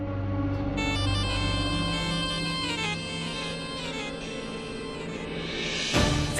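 An electronic phone ringtone plays a bright looping melody, steady and fairly loud, then a brief rustling bump near the end.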